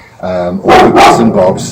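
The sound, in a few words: dogs barking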